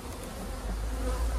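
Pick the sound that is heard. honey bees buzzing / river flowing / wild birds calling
honey bees buzzing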